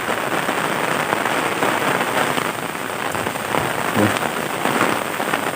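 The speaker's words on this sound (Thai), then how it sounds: "ฝนครับ" A downpour drums without pause in rural Phibun Mangsahan, Ubon Ratchathani province, Thailand, a thick, close wash of raindrops with a few sharper splashes near the end and no speech.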